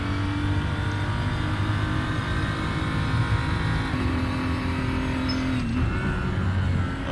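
A BMW 235i engine in the Raceroom racing game at the Bilsterberg track drones steadily and loudly throughout, holding a constant tone with a brief dip in pitch, as if easing through a gearchange.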